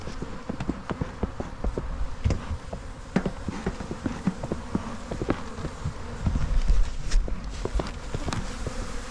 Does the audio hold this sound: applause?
no